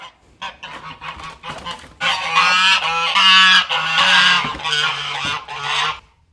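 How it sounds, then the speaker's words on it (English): Loud, repeated goose honks close by, a rapid series of harsh nasal calls that build into a sustained noisy chorus of several birds. "Damn geese."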